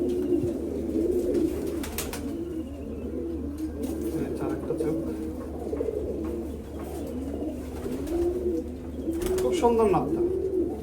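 High-flying Naptha pigeons coo in repeated rolling, throaty calls close by, layered throughout while someone talks over them.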